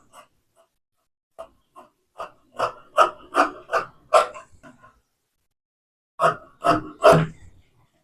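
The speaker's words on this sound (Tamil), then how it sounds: "இது வந்து கோட்டுக்குள்ளேயே அழகாக வெட்டுங்க." Scissors snip through blouse fabric along a marked line during tailoring, giving a run of short crisp cuts in two bursts with a pause between, fairly close and with no voice over them.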